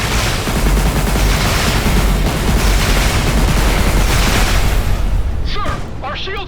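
Torpedo fire and explosions in the space combat game Everspace 2 roar loud and continuous for several seconds, then ease off as a short whooshing sweep follows.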